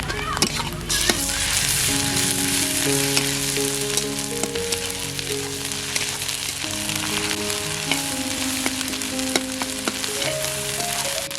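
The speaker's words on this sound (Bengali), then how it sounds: "পেঁয়াজ কিছুক্ষণ ভাজার পর দিয়ে দেব আদা ও রসুন বাটা।" Chopped onions with ginger and garlic paste fry in a pan for a spicy sardine curry, giving a steady broadband sizzle throughout, with melodic background music running underneath.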